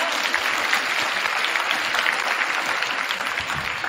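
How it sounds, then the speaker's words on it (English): A school assembly audience at a Make-A-Wish wish week launch applauding in a dense, steady wash of clapping that holds at an even level throughout. "So let's give them a round of applause."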